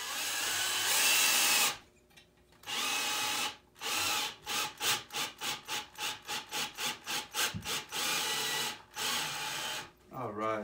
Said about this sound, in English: putting the socket on so I can drive my lug in